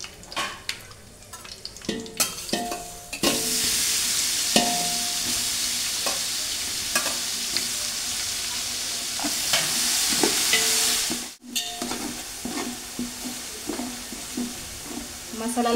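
Ginger-garlic paste frying in hot oil with mustard seeds and curry leaves, a bulk batch for fifty people: a steady loud sizzle with spoon stirring and scraping against the pan, briefly cut off once, then resuming.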